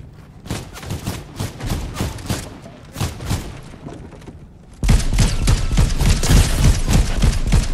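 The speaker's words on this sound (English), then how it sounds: "This red eye rifle is no joke." Red Eye assault rifle firing in Fortnite, rapid repeated shots in bursts, close and loud, the sound growing denser and heavier in the second half.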